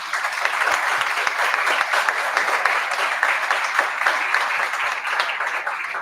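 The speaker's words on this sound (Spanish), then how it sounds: "Un aplauso para ellos, por favor." An audience at a business lecture applauds steadily, a dense wash of clapping with a few sharper individual claps standing out, continuous and fairly loud throughout.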